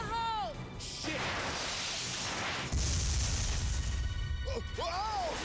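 A grenade explodes in Binary Domain as a heavy, sustained boom and crash under gunfire and game effects, with voices speaking over the start and end.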